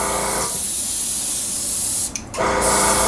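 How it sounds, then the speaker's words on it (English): A spray gun with its nozzle wide open mists green paint onto an M551 Sheridan model, giving a steady close hiss that stops briefly and then resumes. "This one you're further out, and your nozzle's wide open, so you're just misting it on."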